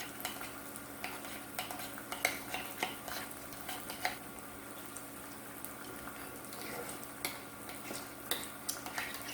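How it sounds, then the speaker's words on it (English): Creole mustard mixture being stirred in a bowl, a steady scraping with faint clinks of utensil on the bowl, alongside a quiet sizzle of bologna frying in the background. "Give this a good stir."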